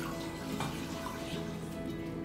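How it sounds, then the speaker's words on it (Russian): Cold water pours into a pot holding pork brisket, a steady broadband splash and trickle with no break for about two seconds, heard close and moderately quiet. "Кладем ее в кастрюльку. И заливаем холодной водой."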